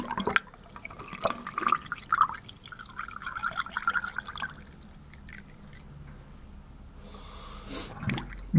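Central heating cleaner trickles and gurgles as it is poured slowly into a radiator, a soft, uneven liquid splashing that is close but fairly quiet, with a brief louder slosh near the end.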